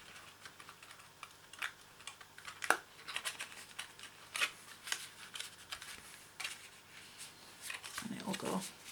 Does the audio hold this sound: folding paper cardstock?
yes